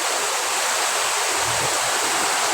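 River water at Uthai, Ayutthaya surges past strongly in a dense, steady rushing hiss, close and loud, with no voices.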